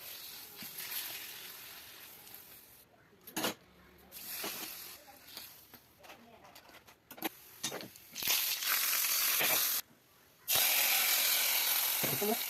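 Papadam fries in hot oil in a home kitchen, giving scattered crackling and rustling bursts that build to loud, continuous sizzling near the end, broken by one brief gap.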